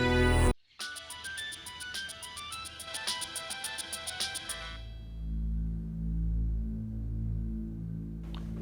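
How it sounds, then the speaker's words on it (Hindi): A bright, repeating electronic phone ringtone plays its melodic pattern for a few seconds, then stops, leaving a low hum of room noise. "फोन बज रहा था, वो देने आया"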